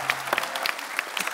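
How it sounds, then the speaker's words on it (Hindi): A television studio audience claps for blind T20 world champion cricketers, brief scattered applause with distinct sharp claps, moderately loud and close. "जोरदार तालियां होनी चाहिए"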